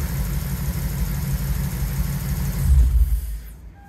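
A Lexus IS F car engine idles with a low, steady rumble, close by, then shuts off and falls silent near the end.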